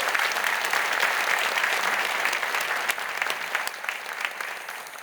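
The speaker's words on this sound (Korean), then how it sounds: "큰 박수로 감사를 표하시고요" Church congregation at a Sunday service applauding the choir and orchestra, a dense sustained wash of clapping that holds steady and then slowly thins and fades toward the end.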